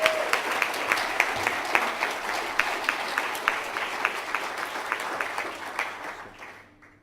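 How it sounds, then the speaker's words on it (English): An awards audience at the UCISA-SSG18 ceremony applauds a winner, a dense round of clapping with sharp individual claps standing out, tapering off toward the end. "A round of applause."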